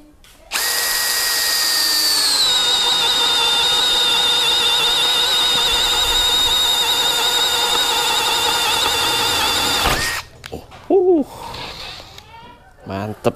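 A Bosch fan-style drill bit bores through material with a loud, sustained high whine for about nine seconds, then stops abruptly, followed by short squeaky sounds.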